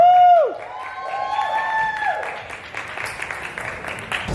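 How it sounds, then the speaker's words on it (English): Audience applause and cheering in a crowd welcoming a poet to the stage at a live spoken-word show at Ingenuity Fest, steady dense clapping with whoops that follows a brief announcer's voice at the start. "Clap him up to the stage,"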